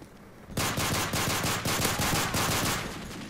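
Machine gun fire from the Call of Duty Modern Warfare 3 video game erupts after a short quiet moment and continues as a loud, dense, sustained burst of rapid shots until the end.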